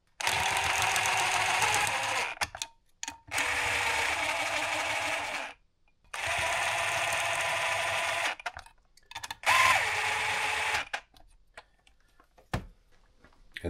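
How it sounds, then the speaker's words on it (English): An impact gun runs bolts down on a 2014 Kawasaki KX250F dirt bike in several loud, sustained bursts of a few seconds each, with short pauses and small clanks between them. "I'm going to use my impact gun just to run these down before we torque them."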